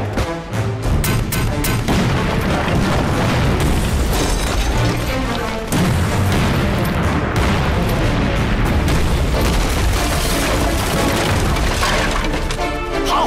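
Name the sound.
artillery shell explosions in a war film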